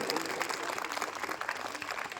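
A crowd at a school annual day and sports day celebration claps continuously throughout, a dense, even patter of many hands with possible voices mixed in.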